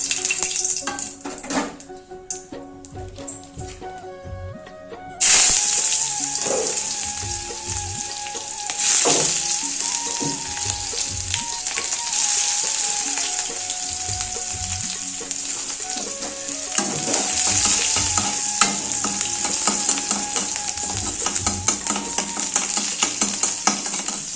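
Onions sizzle in oil in a pan for a potato and fish curry, a steady close crackle that swells loudly once they go in, punctuated by clinks and scrapes of stirring, with no one speaking.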